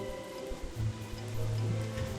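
Steady rain falling in the game Don't Starve, an even, continuous patter with a low droning ambience underneath, moderately quiet and with no voices.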